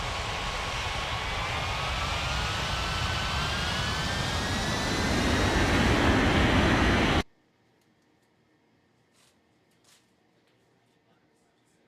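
A jet airliner on its takeoff run in an air traffic control game, its loud broadband engine roar steadily rising in pitch and intensity for several seconds before cutting off abruptly to near silence.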